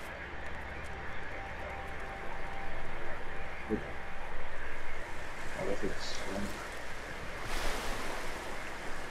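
Continuous ocean surf and rushing water around a swimmer in the open sea in Tomb Raider Underworld, a broad steady wash with a few splashy accents, under occasional speech.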